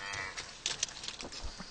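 Cows mooing near a road, a short low lowing call at moderate distance, with a few faint bursts of other sound.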